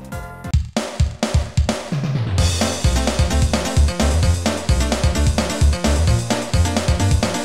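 Sequenced game music played through the Mario Kart 64 soundfont, with plucky bass notes and bright synth melody lines in a short, busy excerpt that starts sparse and quickly fills out, with no talking.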